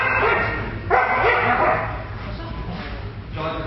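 A police K9 dog barks and yips during bite training, loud and close with repeated rough barks, while a voice talks over the commotion.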